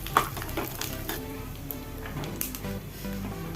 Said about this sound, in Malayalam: അണ്ടിപ്പരിപ്പ് ചേർത്ത് കൊടുക്കാം ഇളക്കി കൊടുക്കാം